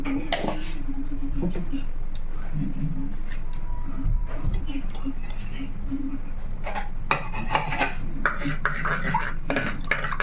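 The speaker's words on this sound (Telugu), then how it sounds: "పసుపు నూనెలో బాగా కలిసేవరకు ఇలా కలిపేసుకొని" Turmeric being stirred into oil in a clay pot, a spoon scraping and clinking against the earthenware in irregular strokes, close and fairly loud, with a few sharper knocks near the end; a voice talks over parts of it.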